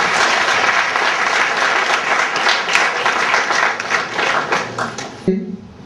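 Loud, dense applause from a crowd at a football academy press conference in Togo welcoming a new coach, sustained clapping for about five seconds before it cuts off abruptly.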